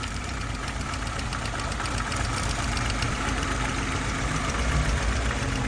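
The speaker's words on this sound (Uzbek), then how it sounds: "Motorimiz yaxshi ishlamayapti. Detonatsiya bilan ishlab turibdi." A Chevrolet Aveo engine runs with detonation knock, a steady close mechanical idle with dense rapid ticking layered over a low rumble that persists evenly throughout, with no voices.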